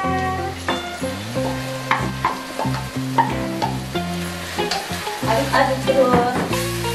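Clams tipped into frying sambal crackle in a hot pan, a steady sizzle running underneath louder tonal music with scattered clinks.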